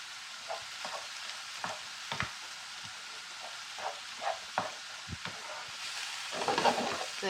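Food sizzles steadily in a hot pan as the heat comes back up, with scattered stirring scrapes and taps over the constant frying hiss.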